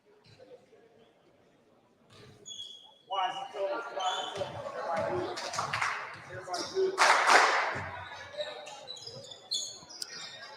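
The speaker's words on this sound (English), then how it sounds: "Have Hamilton Heights Bellways basketball team clapping in my ear" A high school basketball team claps from the sidelines during a game, quick scattered claps and ball bounces in a gym under a radio announcer's play-by-play.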